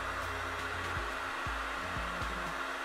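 A hair dryer blows hot air at a table during a phone skin film install, giving a steady, even whoosh with a low motor hum and no talk.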